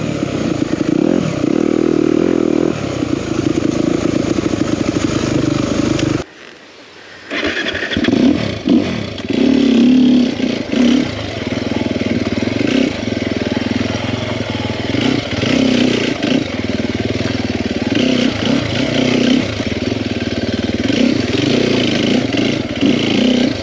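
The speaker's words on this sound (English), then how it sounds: "This is the 2021 Circo 300 SEF Factory Edition." A 2021 Sherco 300 SEF Factory Edition dirt bike ridden off-road, its engine droning loud and close with repeated revs and throttle changes, cutting out briefly near the start before picking up again.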